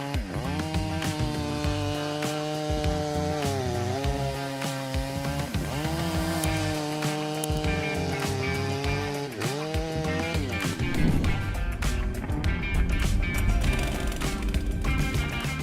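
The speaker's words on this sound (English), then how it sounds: "There is no need to praise this style MS 881 saw more because the working ability it brings is so great." A Stihl MS 881 chainsaw cuts through wood, its engine roaring loud and close, with the pitch sagging and climbing repeatedly as the chain bogs into the cut and then revs back up.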